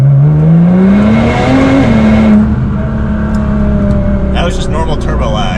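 Nissan GT-R fitted with a rolling launch control anti-lag tune, floored: a loud engine note climbs steadily in pitch, then settles into a steady drone, with a brief scrape or clatter near the end.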